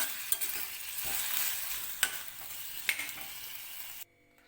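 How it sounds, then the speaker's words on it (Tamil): Tomatoes sautéing in a pan for tomato mint chutney, a steady close sizzle broken by three sharp clinks of a spoon against the pan while stirring, cutting off abruptly near the end. "அது வரைக்கும் வதக்கிக்கோங்க."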